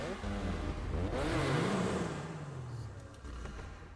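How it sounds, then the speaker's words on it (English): A car engine in a roleplay video game revs up, rising to a strained whine, then dropping back into a lower idle, loud and close, with some talk underneath. "I've never heard an engine sound like that before."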